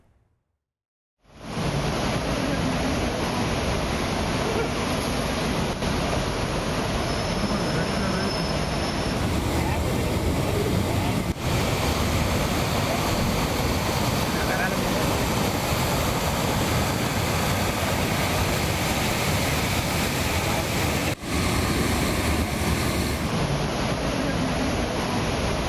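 Water gushes from a breached Parambikulam-Aliyar irrigation canal into a village near Tiruppur, a loud, unbroken roar of rushing water that fills the scene for its whole length, with no voices.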